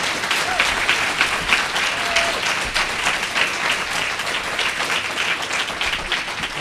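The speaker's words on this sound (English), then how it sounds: "Please clap your hands and give it up for Troy Osaki" A crowd at a civic gathering applauds a speaker with loud, continuous clapping, some cheers and faint voices mixed into the sustained applause.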